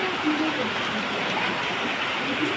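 First monsoon rain pours steadily outdoors as people get soaked, a dense, even hiss with no pauses, filling the whole stretch at a constant loud level.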